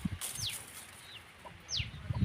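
Chickens cluck softly nearby, with a few short, rising chirps and low clucks scattered over quiet background noise.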